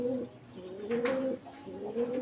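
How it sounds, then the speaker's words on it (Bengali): Native pigeons on a rooftop loft coo in a steady, rolling murmur, several birds close by with overlapping throaty calls swelling and dipping throughout. "আমার এখানে দেখতে পাচ্ছেন সবগুলো দেশি কবুতর"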